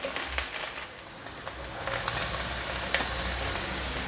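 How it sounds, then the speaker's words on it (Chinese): Shiitake and king oyster mushrooms sizzle steadily as they are stir-fried in oil in a pan, with scattered scraping of the spatula during tossing. "杏鲍菇也一起放进来，继续翻炒。"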